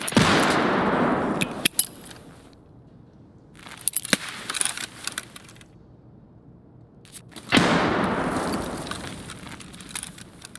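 Grenade blasts in the shooter game Escape from Tarkov erupt as loud, broad bursts, three separate rumbling explosions with sharp crackling debris, separated by short quieter gaps.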